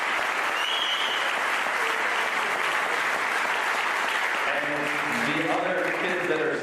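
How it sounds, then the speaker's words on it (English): Sustained audience applause fills a high school band concert hall, dense steady clapping from a large crowd continuing throughout. "Please give them one more hand."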